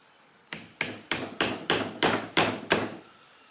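Eight sharp metallic hammer strikes ring out at a steady, even pace, each blow loud and close with a short ringing decay, during work on a single-cab pickup truck.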